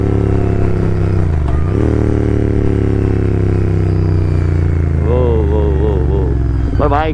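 A Royal Enfield Continental GT650 twin runs close and loud with a steady thumping rumble, dips briefly as the throttle shifts, then rises into a wavering rev near the end.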